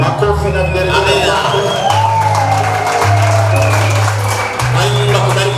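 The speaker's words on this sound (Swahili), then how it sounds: "Makofi na vigelegele." A college graduation crowd applauds and ululates with high trilling cries, loud and close, over a steady bass-heavy music bed, with a voice calling out across the noise.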